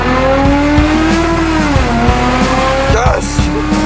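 A car does a burnout in a McDonald's drive-thru, its engine roaring and tires squealing loudly and continuously, with voices mixed in.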